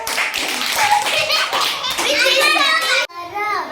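A group of children clap their hands during a school activity, quick taps mostly buried under loud, excited children's voices calling out together.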